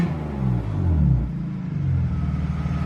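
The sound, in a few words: BMW E36 328i engine rev with new exhaust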